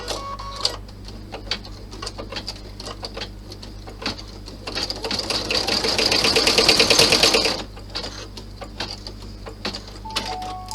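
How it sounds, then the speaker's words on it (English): A sewing machine stitches down a clutch bag, a rapid rattling run of the needle that builds for a few seconds in the middle, with scattered clicks and taps before and after, close up. "Lower your needle by turning your wheel and stitch it down."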